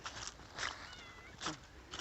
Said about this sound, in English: as you can hear, we're being accompanied by the cats at the moment.